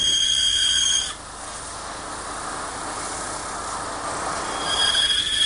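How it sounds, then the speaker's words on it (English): A power tool cuts off a screw during a rocking chair build, giving a loud, steady whining grind that runs for about five seconds, with a sharper pitch at the start and end and no talking. "Now I'm ready to cut off one of the screws"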